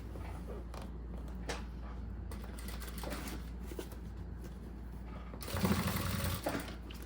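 A domestic sewing machine stitches bias binding onto a small zippered cosmetic pouch, a steady low mechanical whir with a louder burst of faster stitching near the end.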